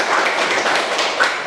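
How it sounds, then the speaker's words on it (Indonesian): Loud, dense applause from a classroom group for the first discussion group, a continuous wash of many hands clapping close by for over a second without a break. "Sebelumnya tepuk tangan untuk kelompok 1."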